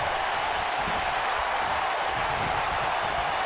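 Arena crowd noise in the WWE 2K19 wrestling game, a steady dense roar of cheering and clapping that holds evenly throughout, loud and continuous with no break.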